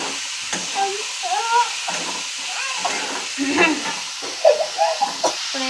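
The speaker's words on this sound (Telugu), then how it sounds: "ఇదిగా ఉల్లిపాయలు అయితే వేపేసుకోవడం జరుగుతుంది" Onions frying in a pan for a drumstick and egg curry, a soft hiss and sizzle running under a voice talking throughout, with faint stirring clinks.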